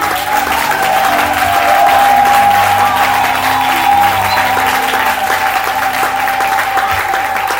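Church congregation at a Sunday worship service applauding and cheering loudly, a dense, steady roar of clapping and voices sustained throughout.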